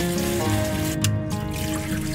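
Dried agar strips are rinsed under running water from a tap, giving a soft trickle and splash under a steady tonal background.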